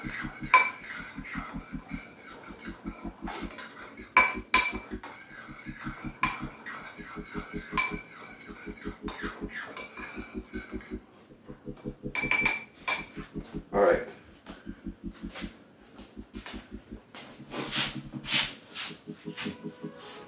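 Seasonings of onion powder and garlic powder being mixed into chicken in a bowl for barbecue chicken, with repeated clinks and scraping of utensils against the bowl throughout, a steady busy clatter with occasional louder knocks.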